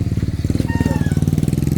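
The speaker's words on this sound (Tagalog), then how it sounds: "May motor sa likod mo." A motorcycle engine putters close behind on a rural street, a rapid steady throbbing pulse that stays loud throughout, with a faint tonal whine partway through.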